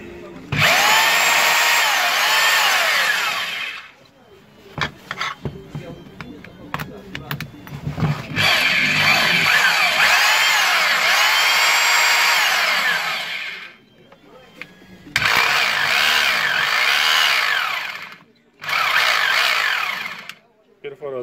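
A Bosch GBH 2-24 rotary hammer drill with no drilling function, hammering only, runs in three loud bursts with a rough, rattling whine, separated by short pauses and clicks.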